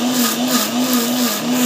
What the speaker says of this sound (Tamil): ஸோ இது வந்து மிக்ஸியில் போட்டு அரைச்சி போகிறோம்.